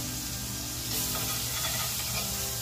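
Flour-coated pork chops sear in a frying pan, giving a loud, steady, close sizzle with crackling spatter and no talk.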